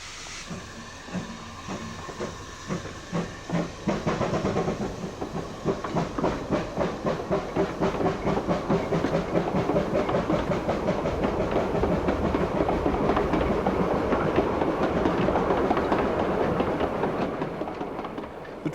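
An Irish narrow gauge steam train in 1958 runs with loud, continuous hissing and rhythmic chuffing, while the wheels keep up a steady clickety-clack throughout.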